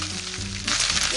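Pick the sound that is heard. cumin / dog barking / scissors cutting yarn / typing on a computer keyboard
cumin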